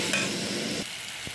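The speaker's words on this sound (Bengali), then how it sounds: "তেলে সব সেদ্ধ হয়েই গেছে, যে আলু টালু সব একটু ভালো করে নেড়ে নিই" Potatoes frying in oil with turmeric, stirred in the pan: a loud, dense sizzle with scraping stir noise for most of the moment, then dropping quieter near the end.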